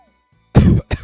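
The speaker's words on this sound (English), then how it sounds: "Why am I coughing so much?" A person coughs twice up close, a longer harsh throat-clearing cough followed by a shorter second one, after near silence.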